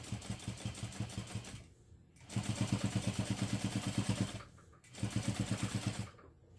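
A sewing machine stitches a line in three bursts of rapid, even clatter, separated by brief pauses, close and moderately quiet.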